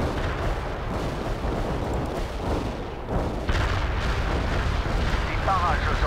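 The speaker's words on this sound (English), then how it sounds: "Heavy artillery firing for effect." A heavy artillery barrage in the video game World in Conflict: dense, continuous rumbling booms and blasts pile up into a loud, unbroken roar, with faint voice-like chatter underneath.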